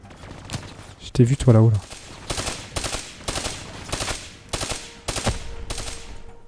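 Rapid bursts of automatic gunfire from Call of Duty Black Ops 3 on PS4, campaign mode, repeating in regular volleys across the clip, with someone speaking French briefly over the shooting.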